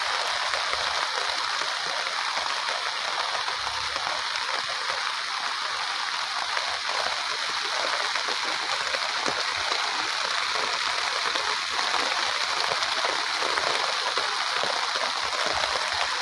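A heavy downpour drums over farmland, an even, loud wash of rain that stays constant throughout, with no other sounds standing out.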